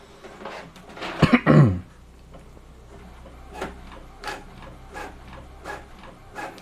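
An Epson L11050/L18050 inkjet printer pulls paper and prints, with a short louder burst of mechanical rattling early on followed by quieter rhythmic clicks and shuffles of the feed mechanism, close by and without speech.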